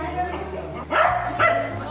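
A dog barks twice in short bursts, close by, with a steady low hum and faint talk in the background.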